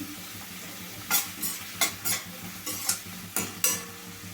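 Onions being fried with salt in a pan for a cauliflower tomato dish, with a low steady sizzle beneath several distinct stirring scrapes spaced about half a second apart, fairly close and quiet.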